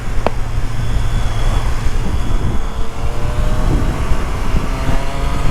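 A Triumph Street Triple 765 RS motorcycle revs hard while riding, with a quick shift break early on and then continuous engine roar over rushing wind noise, loud and close, with no talking.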